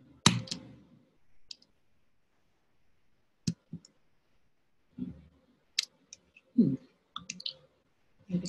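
A computer mouse clicks in sparse, irregular bursts, a few sharp clicks at a time separated by quiet gaps, close by and fairly soft.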